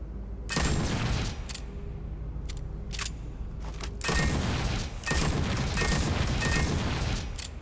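Grenade launcher explosions in Starfield's Shattered Space expansion: heavy booming blasts near the start and again around four and five seconds, each followed by sustained rumbling debris, loud and close.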